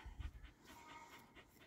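A pet dog panting quietly in quick, steady breaths, faint and close, with no talk over it.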